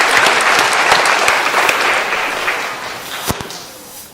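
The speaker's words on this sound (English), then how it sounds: "Simon Says, please give yourselves a round of applause." A church congregation at Christ Church claps together in a burst of dense applause that gradually thins out, ending with a few scattered claps and a sharp final thump.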